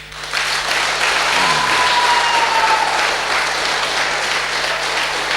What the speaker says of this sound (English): how would you clap?